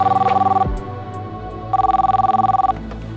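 A telephone rings in two bursts of a steady electronic double-tone trill, loud and close, with a short silent gap between them and no talk.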